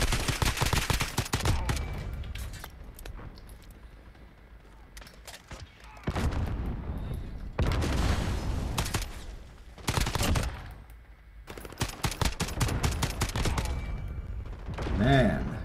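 Bursts of FAL rifle fire in a video game crack out in dense, rapid volleys, several loud sustained strings separated by short pauses, with faint background game noise between.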